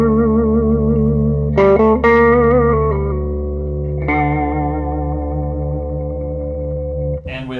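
Sustained, wavering string resonances from behind the bridge of a Saul Koll electric guitar, picked up by a piezo element under the tremolo, with warbling overtones and effects, loud and droning, with a few brighter plucked attacks.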